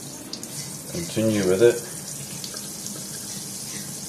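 Lukewarm water pours onto a potted plant in one brief burst of splashing and trickling lasting about half a second, close and moderately loud, with quiet room tone before and after.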